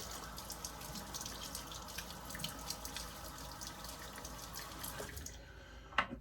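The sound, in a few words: wetting face with running tap water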